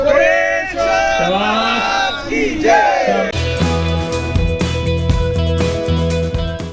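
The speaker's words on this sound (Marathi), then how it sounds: "सगळे समर्थक आहेत मोठा जल्लोष या ठिकाणी आपल्याला पाहावायच मिळतं द्या घोषणा" Supporters roar, chant and shout slogans to celebrate a wrestler's win at a Maharashtra Kesari wrestling tournament in Karjat. Loud, close crowd voices fill the first half, then upbeat music takes over.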